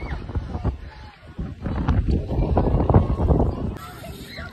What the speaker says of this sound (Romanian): Începe să bată vântul, dar e frumos.